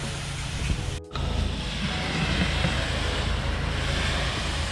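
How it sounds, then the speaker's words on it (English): A pressure washer rinses a stucco house from top to bottom, giving a steady loud hissing spray that cuts out briefly and then resumes, close and continuous, with no talk. "Rinsing from top to bottom. This stucco, man, you gotta rinse it real good."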